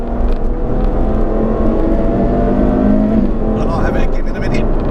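A Ferrari F12 TDF engine roars steadily while driven quickly along country lanes, loud and close with a sustained drone that rises slightly near the end, with a voice speaking over it.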